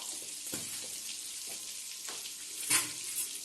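Cumin seeds fry in melted butter in a pan, a gentle steady sizzle with a few scraping stir strokes and a brief brighter crackle near the end, close and quiet with no talking.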